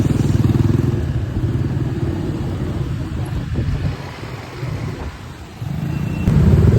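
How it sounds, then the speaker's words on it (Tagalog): Busy road traffic during a morning commute in Caloocan, with motorcycle and car engines idling and rumbling close by at a steady level, easing briefly in the middle before swelling again near the end. "May traffic guys."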